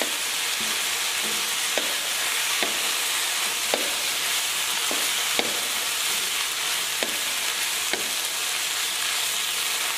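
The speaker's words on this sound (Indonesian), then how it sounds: "Kemudian aduk lagi." Stir-fried white mustard greens with red chili sizzle loudly and steadily in a hot pan, while a utensil scrapes and taps the pan about a dozen times during the stirring.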